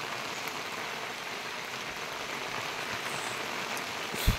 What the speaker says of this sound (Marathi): मरणाचाच पाऊस लागता.